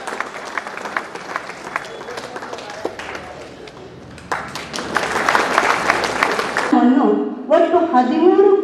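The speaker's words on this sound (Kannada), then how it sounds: "ನಾವೆಲ್ಲರೂ ಚಪ್ಪಾಳೆಯ ಮೂಲಕ ಸ್ವಾಗತಿಸೋಣ" Audience applause welcoming a speaker at a public gathering in Vijayapura, a steady wash of clapping that swells in the middle before a voice takes over toward the end.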